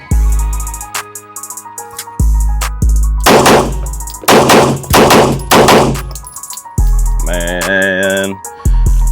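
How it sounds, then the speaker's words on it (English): Handgun shots from a Shadow Systems pistol fired from low ready at a range, several loud sharp reports in clusters with ringing metallic pings from steel targets between strings. "I'm shooting the shadow system."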